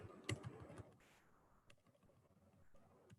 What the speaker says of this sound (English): You should be seeing this typing in real time, right?